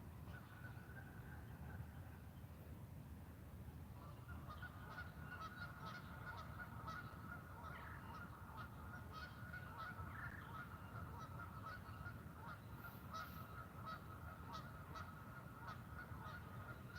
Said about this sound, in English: The goose is like right on top of my bait.